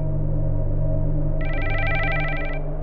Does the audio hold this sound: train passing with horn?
no